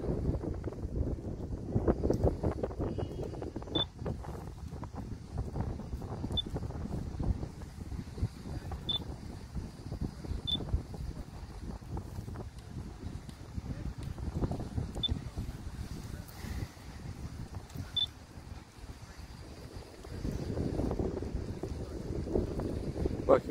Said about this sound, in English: We've got the RHTT. It's a multi-purpose vehicle.